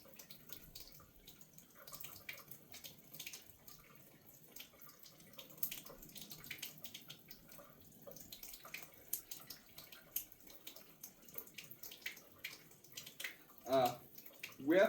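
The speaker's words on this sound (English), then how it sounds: "With my fingers pointing downwards, I am going to rinse my hands from the soap" Water from a tap runs steadily while soapy hands are rinsed under it with fingers pointing down, a faint close splashing and trickling with light rubbing sounds and a few louder splashes near the end.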